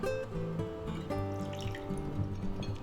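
Water pouring into a bowl of egg and flour, a short trickling splash with faint clinks, close and quiet, with no talking.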